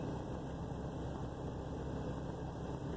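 A truck engine idles with a steady, even low rumble and vibration, close and continuous. The truck has a fault that makes it idle down a few times before running fine.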